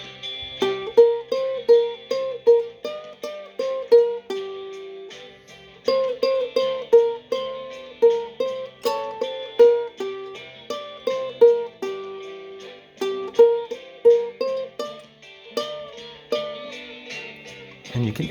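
Ukulele blues solo played over a GarageBand backing track, with plucked notes and bends coming in quick rhythmic phrases, clear and close, and no talk.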